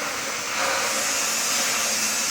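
Steady, loud mechanical whirring of three vacuum pumps serving a sugar-mill mud filter, running continuously, a broad airy hiss with no breaks or voices.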